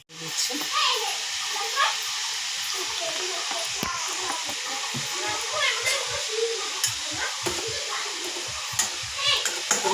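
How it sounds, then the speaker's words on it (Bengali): Bata fish frying in a pan, a steady bright sizzle running throughout with scattered stirring clicks and scrapes. "প্রথমে বাটা মাছটা আমি ভেজে নিচ্ছি"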